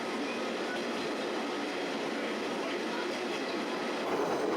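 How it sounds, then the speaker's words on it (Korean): A Japanese train rolls along the rails with a continuous rushing rumble and faint rhythmic clatter, heard steadily from inside the carriage with no talk. "기차 소리가 마치 심장의 맥박처럼 뛰고"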